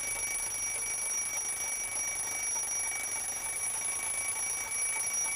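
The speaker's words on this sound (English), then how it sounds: "When the bell rings, we can see it as well as hear it." A continuous, steady high-pitched ringing of an alarm clock bell, constant in loudness throughout with no pauses.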